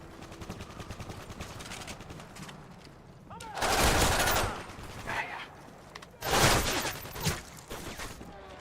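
Bursts of rapid P90 submachine gun fire in Call of Duty Modern Warfare 3, two loud sustained volleys separated by quieter stretches of distant game gunfire, with a voice talking at times.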